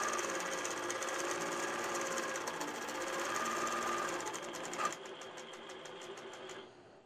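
An Innova longarm quilting machine stitches a pattern on AutoPilot, a fast steady mechanical whir with rapid needle ticks that shifts pitch partway through and then winds down, close and alone.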